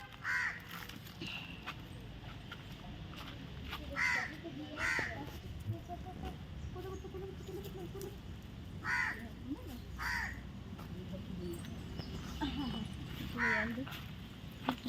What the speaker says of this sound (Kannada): ಅಂಟ್ಲ ಮರದಲ್ಲಿ ಕಾಗೆ ನೋಡಿ ಗೈಸ್, ಕಾಗೆ ಓಡೋಗ್ತಾ ಇದೆ ನೋಡಿ ನೋಡಿ